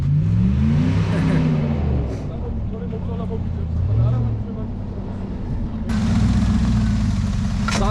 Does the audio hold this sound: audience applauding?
no